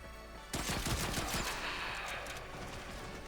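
Zhuge crossbow in a video game loosing a rapid burst of bolts at close range, a sharp onset followed by a dense, fast run of overlapping shots that trails off into a lingering wash.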